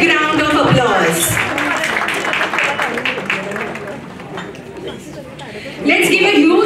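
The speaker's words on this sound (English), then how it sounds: "Let's give her a big round of applause." Audience at an awards ceremony breaking into applause and chatter, a broad clapping wash that swells at the start and again near the end, with an announcer's voice talking over the crowd.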